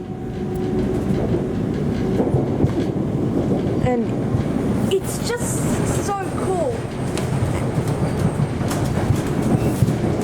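An HCMT train runs between Flinders Street and Dandenong, with a steady loud rumble of wheels and carriage noise and a few brief squeals. A person talks over it throughout.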